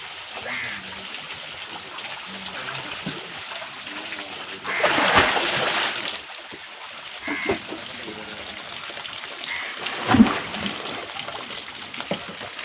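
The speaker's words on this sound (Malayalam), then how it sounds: "അങ്ങനെ നമ്മുടെ പറക്കുഴിക്ക് അവർ തപ്പിയതിന് ശേഷം വല പൊക്കുകയാണ്" Water splashes and sloshes as a fishing net is hauled up from a flooded fish pit, with a louder gush midway and another brief splash near the end over a constant trickling wash.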